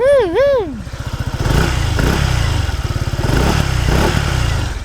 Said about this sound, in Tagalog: Tahimik yung makina, tsaka yung pipe tahimik din.